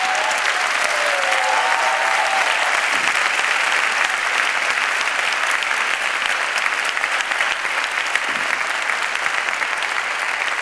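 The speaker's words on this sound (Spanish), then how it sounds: "Fuerte el aplauso, ahora sí." A loud, sustained round of applause from a carnival audience at a murga presentation, continuous dense clapping filling the space with a faint whistle near the start.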